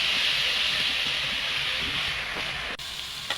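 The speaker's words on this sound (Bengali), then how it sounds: "আমি পেঁয়াজ বাটাটা দিয়ে দেব।" Onion paste hits hot oil in a pan for a prawn malai curry and erupts into a loud, steady hissing sizzle that eases slightly before a brief clatter near the end; no talking.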